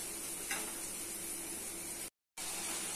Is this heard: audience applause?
no